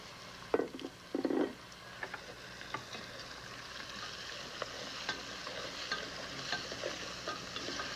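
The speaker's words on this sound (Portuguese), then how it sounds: "Cortada em pequenas fatias, que nós vamos dar uma fritada ligeira aqui" Slices of cured calabresa sausage fry lightly in a pan with a steady soft sizzle, broken by a few louder scraping stirs near the start and scattered utensil clicks.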